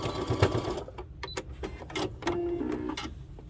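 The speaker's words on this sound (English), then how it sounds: "we're just going to do a little top stitch right on top of that to close it up" A sewing machine top stitches a spa headband to close it, in a short uneven sequence of brief whirring bursts and small mechanical clicks up close.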